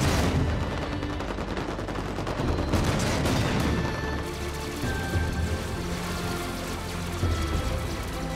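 Tank cannons and turrets fire in a Halo 5: Guardians battle, a dense continuous barrage of rapid gunfire and blasts crackling together with no pauses, loud and chaotic throughout.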